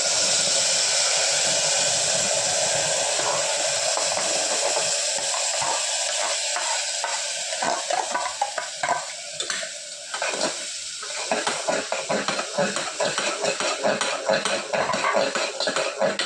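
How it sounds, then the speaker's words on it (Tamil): Mashed banana with crushed cardamom being stirred in a hot pan for banana halwa, with a steady sizzle under repeated scraping of a spoon on the pan throughout. "வாழைப்பழத்தை போட்டு நல்லா கிளறணும்"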